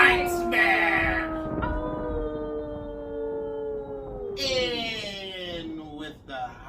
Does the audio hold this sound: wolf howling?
yes